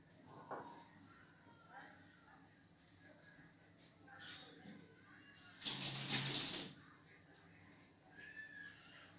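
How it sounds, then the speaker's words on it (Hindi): A kitchen tap runs as fresh mint leaves are washed, giving a soft trickle that swells into a louder rush of water for about a second before settling back. "तो सबसे पहले यहाँ पर हम इन फुदीने की पत्तियों को अच्छे से धो लेंगे"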